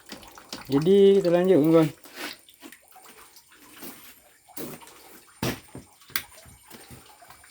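Water from a hillside pipe gushes into a kitchen in a house at the edge of an equatorial rainforest, a loud splashing pour for about a second and a half, then quieter trickles and clatter as someone speaks.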